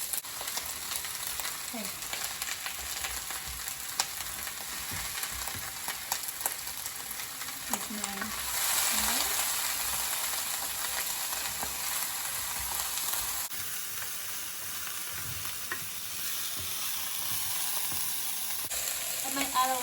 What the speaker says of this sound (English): we're gonna allow these vegetables to saute for about 10 minutes